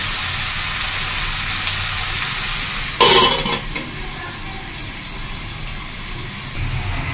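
Sliced bitter gourd and potatoes fry in a covered pan over medium heat with a low, steady sizzle, broken once by a brief metallic clatter before the quiet frying continues.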